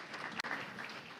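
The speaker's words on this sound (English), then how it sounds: "Give him a round of applause." Brief, faint audience applause with scattered clapping in a hall during a 2016 legislative listening session, heard at a distance.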